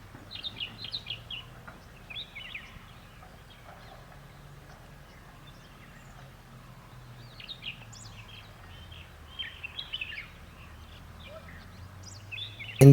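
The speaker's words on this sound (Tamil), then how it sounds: "இந்த பறவை பேர் பார்த்திங்கன்னா க்ரீன் பீ ஈட்டர் அப்படின்னு சொல்லுவோம்." Green bee-eaters in Bandipur forest, India, give short, high chirping trills in scattered bursts, fairly faint against a quiet low hum, with a few louder call clusters near the end.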